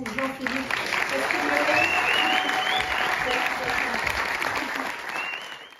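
Studio audience at a French television show applauding, sustained dense clapping at a steady level that fades at the end, with a voice talking over it.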